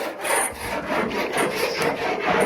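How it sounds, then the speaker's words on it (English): Rough rhythmic scraping along the inside of a 1962 Cadillac hearse roof, with steady back-and-forth rasping strokes that sound close and fairly loud, no talking. "So we're gonna scrape all this down inside here too."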